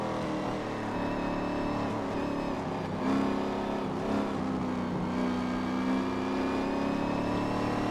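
ARCA race cars at Lime Rock Park roaring down the straight, a steady loud engine drone with rising pitch as the cars accelerate, continuous throughout.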